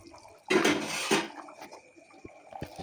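Fried rohu fish pieces slid into a pot of simmering rohu and elephant-foot-yam curry, a loud splashing, sizzling clatter lasting about half a second, followed by faint liquid bubbles and small utensil taps.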